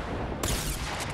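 An RPG rocket launcher fires in a video game, a single sharp blast that breaks abruptly into a broad roaring burst after a moment of low background rumble.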